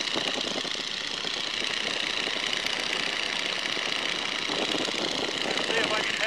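A 1942 Boeing Stearman biplane's radial engine drones steadily and loudly as the throttle is advanced, a continuous broadband roar filling the cockpit with a voice talking over it.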